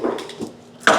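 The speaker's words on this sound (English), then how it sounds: "Close the tailgate." The tailgate of a 2022 Ford Maverick fitted with a WorkSport AL3 Pro tonneau cover is shut: light knocks and rattles, then one sharp solid closing thud near the end.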